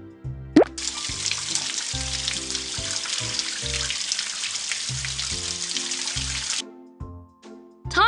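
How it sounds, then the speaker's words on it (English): In a PAW Patrol video game, running water rinses soap bubbles off a pup's paws, a steady hissing, splashing stream over a bouncy musical backing that stops abruptly near the end. "Let's rinse the bubbles away now."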